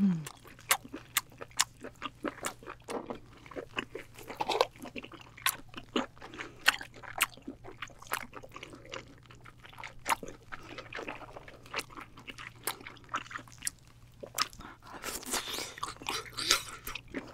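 Someone eats a giant 16 kg octopus for a close-miked ASMR mukbang. Wet biting, crunching and chewing come in many quick, irregular bursts over a quiet low hum, with no talking.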